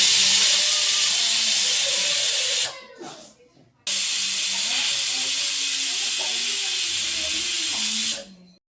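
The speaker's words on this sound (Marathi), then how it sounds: "तर इथे मी वाफ काढून ओपन करते" Steam hisses loudly out of a pressure cooker's vent as it is released after cooking mung beans, a continuous broadband rush that cuts out briefly, resumes at full force, then stops.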